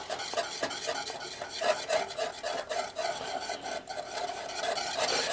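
Homemade organic paint being stirred by hand before linseed oil is added, a steady close rasping and scraping churn with repeated strokes and light clinks, moderately loud and continuous.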